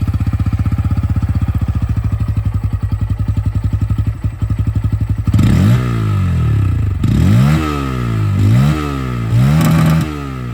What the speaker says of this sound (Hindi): और चलिए अब यहाँ पर जो N160 है इसकी भी आवाज़ आप लोग यहाँ पर सुन लीजिए।